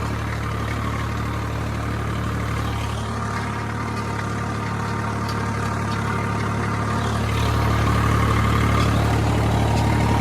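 A tractor-driven multicrop thresher, set up for mung beans, runs at a steady 1400 RPM with its tractor in two-wheel drive, giving a continuous close engine drone that swells slightly louder toward the end, with no voices.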